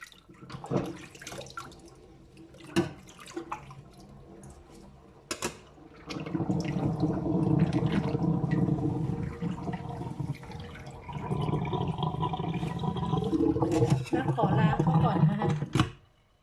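Spider flower vegetables being washed in clean water give splashing and running-water sounds, swelling in long stretches with brief pauses, while someone talks throughout.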